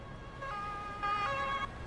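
Ambulance siren from the emergency-services video game Emergency 4, a steady electronic wail with strong tonal harmonics that swells louder midway through, heard alone with no talking.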